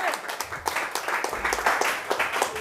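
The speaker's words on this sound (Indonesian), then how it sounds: "Berikan sorak-sorai buat Tuhan Yesus." A church congregation cheers and claps for Jesus during a sermon, a steady, moderately loud wash of applause and shouting with no break across its length.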